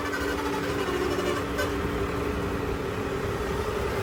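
A modified tractor engine drones steadily and loud throughout as the tractor is driven along, a dense continuous rumble with no voices over it.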